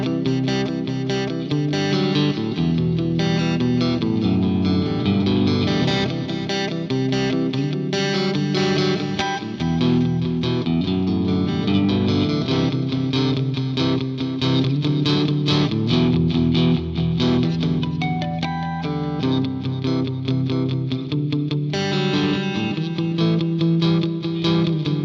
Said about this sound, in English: I want to add just a little bit of reverb and delay to the amp,